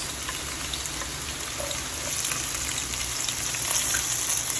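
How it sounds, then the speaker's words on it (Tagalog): Garlic and onion frying in a hot kawali for Bicol balaw, a dense steady crackling sizzle like light rain, close and continuous, growing slightly louder toward the end. "Isunod na natin ang sibuyas."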